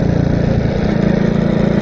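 An old motorcycle engine drones loudly and steadily while riding along an uneven road, with a constant close mechanical hum and no break in the sound.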